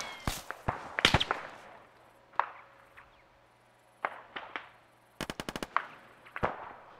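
Rifle and machine-gun fire in Arma 3 rings out in sharp separate shots and one quick automatic burst, some close and loud, others fainter and further off, with a low steady hum underneath.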